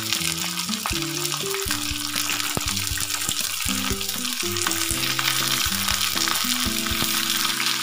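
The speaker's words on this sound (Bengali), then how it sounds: "এবার বড়া ভাজা তেলে ভেজে নেব পটল।" Pieces of pointed gourd (potol) fry in hot oil in a pan with a dense, continuous sizzle and crackle close by, while a steady tonal hum runs beneath it and no one speaks.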